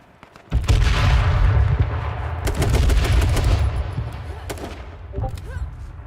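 Gunfire in an online shooter game during a scrim match: a sudden burst opens into sustained rapid automatic shots and loud booms, close and dense, with sharp single cracks scattered over the next seconds as the firing gradually thins.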